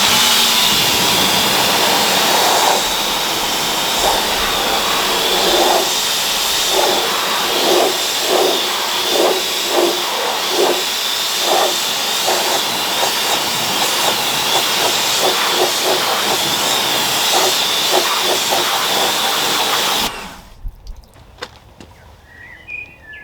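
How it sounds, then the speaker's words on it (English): A pressure washer sprays a car foamed with AutoBrite Magifoam, a loud, steady close hiss of water jet with a faint pulsing texture, cutting off abruptly near the end to leave quiet. "let's see what difference this makes with just the pressure washer"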